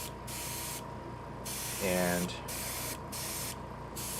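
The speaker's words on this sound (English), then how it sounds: "We're just going to spray on a little bit here and there," An airbrush or spray can mists paint onto a scale model in several short hissing bursts of about half a second each, close and steady, separated by brief pauses, while a person talks over the spraying.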